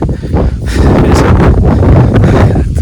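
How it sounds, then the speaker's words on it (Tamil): Strong swirling wind on Velliyangiri mountain roars steadily and buffets the microphone with loud, rumbling gusts throughout, with no clear speech. "காற்று சுழன்று சுழன்று வீசுகிறது சுற்றி சுற்றி வீசுகிறது"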